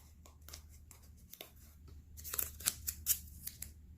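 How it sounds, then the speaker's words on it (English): Tape being pulled and pressed down at several sides around a circular piece on a homemade STEAM spectroscope, heard as a series of short crinkly rips and taps, louder in the second half, with no talking. "I tend to, when I'm doing a circle like this, to tape down 4 different sides"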